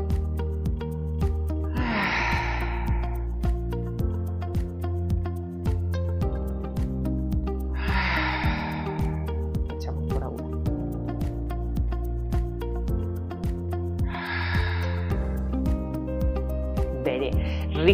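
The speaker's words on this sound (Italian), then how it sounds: "Mi fai circa una ventina di respirazioni diaframmatiche, cercando di mollare il più possibile." Slow diaphragmatic breathing during a relaxation exercise: three long, airy breaths spaced several seconds apart, close to the microphone, over soft steady background music.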